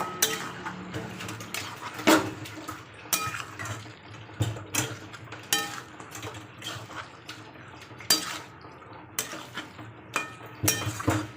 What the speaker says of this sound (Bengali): এবার এটাকে ভালো মতো নাড়াচাড়া করে নেব।